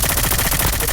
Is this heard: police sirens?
no